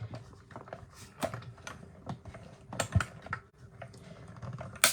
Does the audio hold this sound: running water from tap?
no